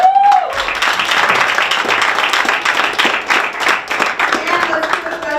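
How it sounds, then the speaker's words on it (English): A crowd applauds the teams at a fall student competition, dense clapping with a brief cheer at the start, steady and fairly near, continuing throughout. "let's also give a round of applause to all of our teams"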